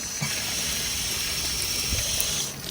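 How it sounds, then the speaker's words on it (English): Steady hiss and rush of water running from a building's tap while a bottle is filled, constant and close, with a few faint low knocks and no talk. "Filling up my water here at the building."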